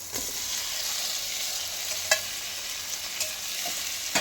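Continuous oily sizzle of spice masala frying in a pan as fried potatoes are stirred in for a green banana kofta curry, with a few soft scraping clicks of the spoon against the pan.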